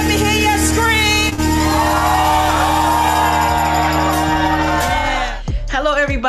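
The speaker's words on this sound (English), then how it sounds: "everybody, let me hear you scream." A church crowd at a loud worship event screams and cheers continuously, with music and a sustained roar filling the space before easing slightly near the end.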